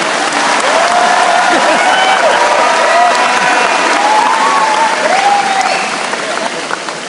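An audience at a business convention claps in a steady, dense wash of applause while someone speaks over it through a microphone, the clapping easing slightly near the end.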